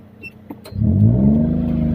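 Car engine accelerating as the gas is pressed at half clutch during a driving lesson: a few faint clicks, then a loud, close engine swell that rises and holds a steady hum, with no voices.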